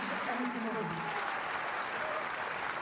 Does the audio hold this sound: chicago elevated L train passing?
no